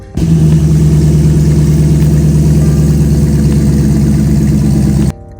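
A Dodge Charger engine runs loud and steady at idle with its exhaust valve open and the actuator unplugged, giving a deep, droning exhaust rumble, then cuts off abruptly.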